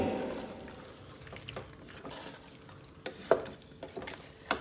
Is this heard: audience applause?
no